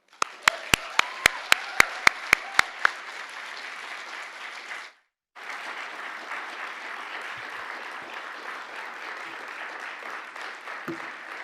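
An audience applauds to welcome Dr. Karen Swallow-Prior at a lecture, opening with a few sharp individual claps that swell into sustained, even clapping, briefly cut off and then continuing.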